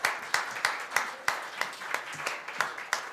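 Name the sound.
audience applause at town council meeting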